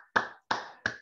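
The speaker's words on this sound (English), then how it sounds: "clap your hands." A congregation at a church service claps hands together in three sharp, evenly spaced beats, close and crisp with brief decays and no talking.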